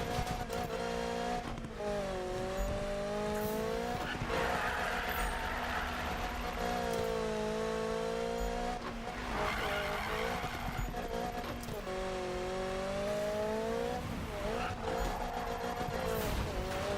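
Race car in the Need for Speed video game drifting around in a circle, a loud continuous engine whine with long rising and falling pitch sweeps and sustained tire skidding, no talk.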